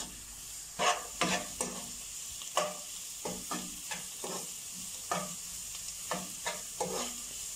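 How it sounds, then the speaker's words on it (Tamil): Onions with a little salt sautéing in a pan for chicken gravy, a soft steady sizzle under repeated scraping strokes of a spoon stirring them, close and fairly quiet. "வெங்காயத்தை நல்லா கிண்டிக்கலாம்."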